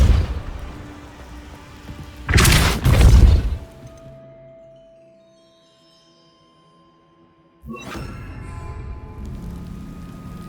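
The Depulso spell cast in Hogwarts Legacy, a sudden loud crashing burst lasting about a second over rumbling game ambience, then fading before another impact-like swell near the end.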